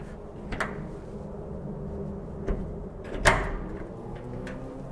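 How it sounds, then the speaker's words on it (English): Lockable metal tool pod doors on a Ford Transit L3 tipper, with a few sharp knocks and latch clunks spaced over several seconds, the loudest near the end, over a low background rumble. "So metal tool pod, lockable doors,"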